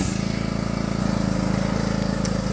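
A lawn mower engine runs steadily with a constant throbbing drone, close and loud, no voices over it, while grass is being cut at a rural homestead.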